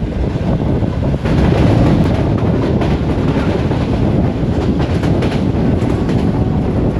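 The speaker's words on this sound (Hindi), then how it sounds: "सरशमीर रेलवे स्टेशन पे 47 अप रहमान बाबा एक्सप्रेस के साथ क्रॉस हो रहा है।" Loud, close rumble and rattle of the Shalimar Express rolling through a station in Pakistan as it crosses the Rahman Baba Express, wheels clattering steadily over the rails with wind buffeting the microphone.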